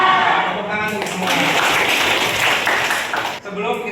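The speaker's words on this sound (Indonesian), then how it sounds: "Tepuk tangan untuk semua." A school class of eleventh-grade students applauds together, a dense burst of clapping with voices mixed in, fairly loud and close, fading at the end.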